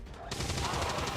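Ballistic weapons fire in XCOM 2 bursts in sharply after a brief quiet moment, then runs as a rapid volley of shots. A voice is faint underneath.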